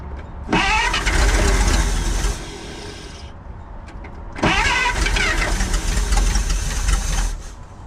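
A 1948 Pontiac straight-eight engine, missing ground straps, runs in two loud revving bursts separated by a quieter lull, with a rough, knocking idle between them.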